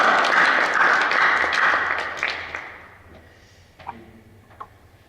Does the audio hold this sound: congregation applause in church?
yes